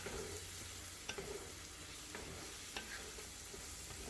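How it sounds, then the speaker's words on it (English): Vegetables sautéing in homemade butter in a pan give a steady low sizzle and fry, with a few soft clicks of stirring now and then, close by and with no talking. "my vegetables are sauteing"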